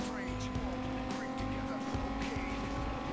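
Racing car engine in Need for Speed Most Wanted, steady loud revving with pitch shifts as gears drop through several downshifts, someone talking over it throughout.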